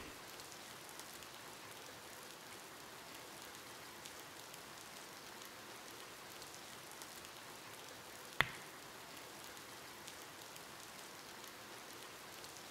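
Steady virtual rain falling in the VR game Golf Pool, a soft, even patter throughout with one brief sharp click partway through.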